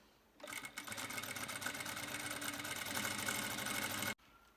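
Sewing machine stitching fabric for a summer dress, running steadily and fairly loud for about four seconds with a rapid even mechanical whir, then stopping abruptly.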